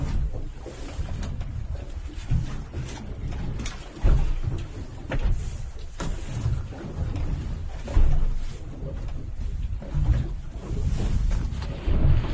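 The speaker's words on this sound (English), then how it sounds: "Freaking waves." Ocean waves wash and surge outdoors amid steady wind and microphone buffeting, with louder swells breaking every few seconds, continuous and fairly close with no talk.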